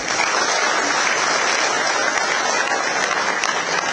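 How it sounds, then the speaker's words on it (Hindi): Audience at a state forest development corporation founding event gives steady, loud, continuous applause that holds level from start to end. "जोरदार तालियां हो जाएं धन्यवाद के लिए"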